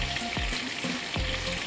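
Curry leaves and chillies fry in hot oil in a Kerala kitchen for poori masala. The oil sizzles loudly and steadily, broken by a few quick stirring scrapes. No one speaks.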